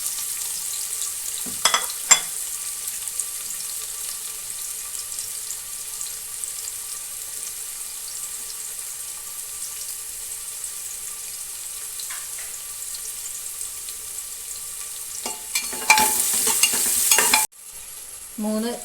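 Chopped large onion frying in coconut oil inside a pressure cooker, a faint steady sizzle with a few clinks early on and a sudden louder burst of hissing near the end before it cuts off.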